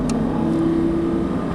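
Lamborghini Gallardo Superleggera LP570-4 engine pulling under light throttle, a loud, steady droning exhaust note sustained for a moment, with a brief high click near the start and no speech.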